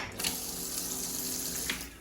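Seawater tap on a catamaran running into the galley sink, a steady close hiss of water flow holding evenly for about two seconds.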